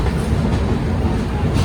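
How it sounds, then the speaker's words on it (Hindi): Jabalpur Express passenger train pulling out of platform one at an Indian railway station, a loud, close continuous rumble of wagons rolling past with rhythmic wheel clatter and no talk. "एक नंबर प्लेटफॉर्म से डिपार्चर होती हुई जबलपुर एक्सप्रेस अपने समय से 3 मिनट की देरी से।"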